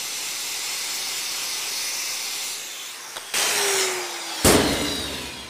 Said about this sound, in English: We're gonna go ahead and chip that slag. I'm gonna wire wheel it a little bit.